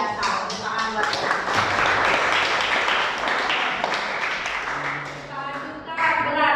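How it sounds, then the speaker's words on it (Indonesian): A classroom of students claps together in a steady burst of applause lasting several seconds, fading out as a teacher's voice returns. "Tepuk tangan buat kita."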